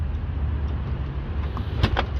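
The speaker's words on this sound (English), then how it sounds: "button here to lock and unlock, and this is to open the door" Ferrari Roma lock actuators clunk and a door unlatches and opens, close by, with a couple of sharp mechanical clicks near the end.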